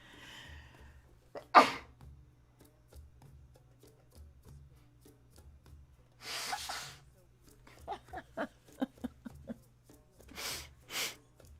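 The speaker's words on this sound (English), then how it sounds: "I'm going to sneeze again." A sharp, explosive sneeze bursts out, then soft breaths and quiet speech, and a couple more sneeze-like blasts come near the end.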